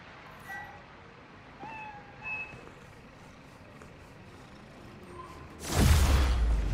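A cat meows a few times in Marvel's Spider-Man: Miles Morales, thin, fairly faint calls over quiet city ambience, followed by a sudden loud burst of traffic noise near the end.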